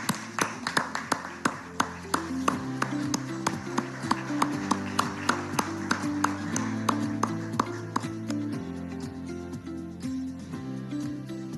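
Scattered claps ring out at a press conference with Union Finance Minister Nirmala Sitharaman, sharp and close, running over steady low music-like tones and a busy background.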